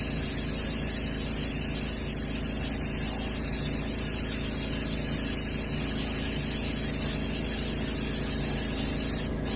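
Aerosol spray paint hisses steadily and up close as coats are applied to a striped bass (striper) fish mount, one continuous unbroken spray with no pauses.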